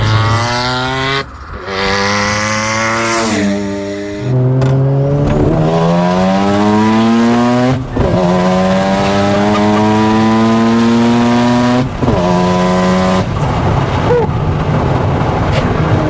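A Mazda RX-7 FD's rotary engine revs hard while driving on open roads, loud and close, with repeated rising pitch sweeps, brief drops between gear changes and a raspy, buzzing note, with no talking.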